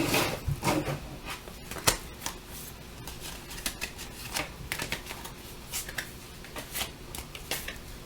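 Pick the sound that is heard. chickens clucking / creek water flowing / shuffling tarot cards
shuffling tarot cards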